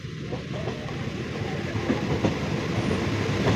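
Passenger train in Kerala bound for Palaruvi waterfalls, heard from inside a carriage: a steady rolling rumble with rhythmic wheel clatter over rail joints, moderately loud and continuous.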